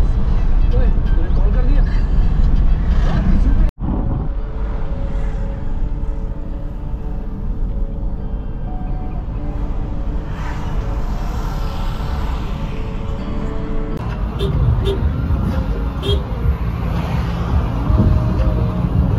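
A vehicle drives along the Chandigarh–Manali highway toward Kasol, giving a loud continuous road and engine rumble with a brief dropout, while people talk throughout.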